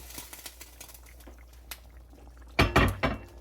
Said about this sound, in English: Okay, this has been simmering for about, I don't know, 30 minutes. I'm going to stir it.